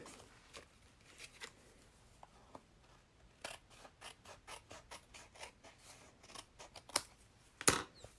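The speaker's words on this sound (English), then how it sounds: "I'm going to go ahead and cut out the excess here." Scissors trimming excess paper while making a card, a steady run of crisp snipping cuts, close but soft, ending in a couple of sharper clicks, with no talk.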